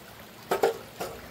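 Water is splashed out of a gold prospecting sluice outdoors, heard as two quick close splashes followed by a softer third, over a quiet background hiss.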